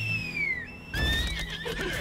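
A horse in the video game Lost Ark neighs with a long, high, falling whinny, then breaks into a second louder, shakier neigh over low game background sound.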